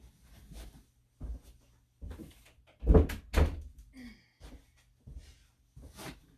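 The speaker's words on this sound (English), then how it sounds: "I'm going to close this door." A door shuts with a couple of solid thuds, preceded and followed by quieter shuffling and handling noises, close by.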